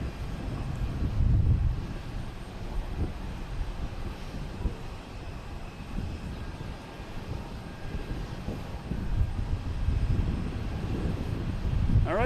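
A Pilatus PC-12 turboprop landing at Boston Logan Airport, arriving from Martha's Vineyard, a steady loud engine drone with low rumble and some wind buffeting throughout.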